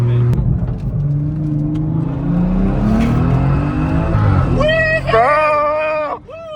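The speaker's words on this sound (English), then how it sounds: "Oh yeah, I can tell this is faster than my car already." An 800 hp big-turbo BMW 340i accelerates hard, its engine note climbing through the gears in rising sweeps, then a sharp high whine near the end, with people talking over it inside the car.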